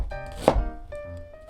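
A knife slices thinly through an onion on a board, one firm chopping thunk followed by a soft follow-through, close and clear.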